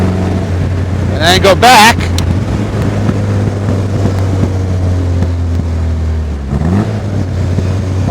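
A 1956 Austin Healey 100M cruises on the road with a steady, droning engine hum and wind rush heard from inside the car. A brief burst of voice and other noise breaks in early, and a shift in engine pitch follows later.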